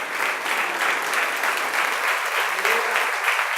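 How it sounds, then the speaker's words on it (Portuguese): A church congregation applauding during an evening worship service, a steady, dense wash of clapping from many hands that fills the room, with a few voices faintly mixed in. "por favor, aplaude e glorifique ao Senhor."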